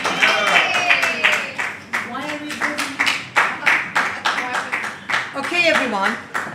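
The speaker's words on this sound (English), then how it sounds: "let's give a big round of applause for Margaret Ali." A round of applause rises from the audience at a Universal Peace Federation gathering, with rhythmic clapping running underneath voices that are talking over it throughout.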